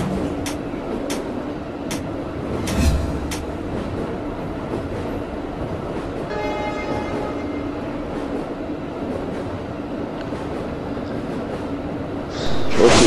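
Train rumble and clickety-clack in a truck simulator game, a steady rolling roar with sharp rhythmic clacks and a brief louder burst near the end.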